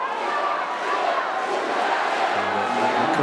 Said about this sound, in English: The crowd's noise intensifies.